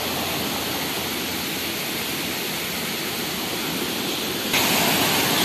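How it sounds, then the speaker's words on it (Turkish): The Düden waterfall in Antalya pours in a loud, continuous broadband roar that stays steady throughout, swelling slightly louder near the end, with no voices. "Şelalenin akıyor böyle."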